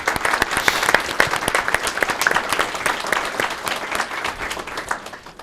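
An audience applauds the organizing committee at a French-language conference opening, a dense, sustained clatter of many hands clapping steadily for several seconds at close range.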